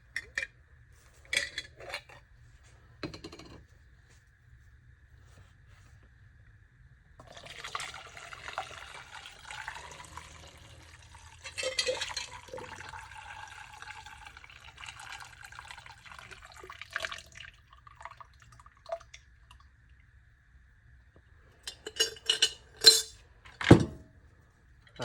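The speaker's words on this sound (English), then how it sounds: "I'm going to go ahead and drain the vinegar. It is reusable, so I'm going to go ahead and put it back in here." Vinegar drains off scrap copper and is poured back into a container, heard as quiet intermittent splashing and trickling mixed with clinks of metal and handling noises.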